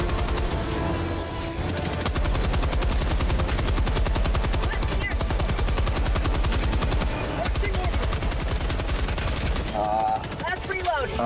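Heavy gunfire in Helldivers 2, a sustained rapid machine-gun burst that runs loud and continuous for several seconds, with players talking during and after it.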